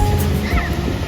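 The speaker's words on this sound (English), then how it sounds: "splashing in the waves as well" Ocean waves splash and wash in a short, loud, steady rush of surf with wind noise buffeting the microphone.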